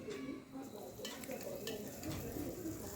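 Whole cumin seeds and dried red chillies tempering in hot oil for a mung dal porridge, giving a steady close sizzle and crackle with stirring throughout.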